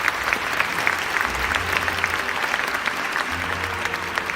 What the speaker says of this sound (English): please give each and every one of them a big round of applause